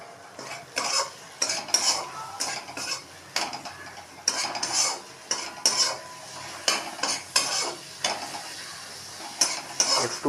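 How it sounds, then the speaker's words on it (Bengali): Tomato, chilli, turmeric, cumin and coriander powder frying in a pan for an egg curry, stirred with a spatula in brisk rhythmic scraping strokes over a low sizzle. "পরিমাণ মতন টমেটো, লঙ্কা, হলুদ, জিরে গুঁড়ো এবং ধনে গুঁড়ো দিয়ে দিলাম। তারপর সামান্য চিনি দিয়ে তাকে ভালো করে নেড়ে নিলাম।"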